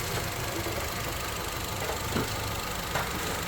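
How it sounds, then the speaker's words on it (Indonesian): A Wuling Almaz car engine idles smoothly and steadily with a faint, rapid fuel-injector ticking over the continuous hum, with no voices. "Yang paling kencang hanya suara injektor."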